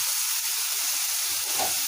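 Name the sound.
tomato and vegetables frying in butter for pav bhaji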